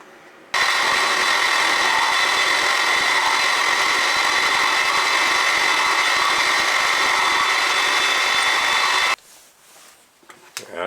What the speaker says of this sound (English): I'm just going to get it down to the 1/2 inch which I want in there for the tool